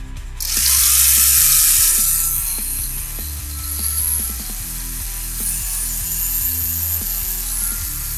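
Mini 4WD car on an SFM carbon chassis with an aftermarket gearset runs alone in a steady, close, loud mechanical whir with a gritty, slightly rough ratcheting edge throughout.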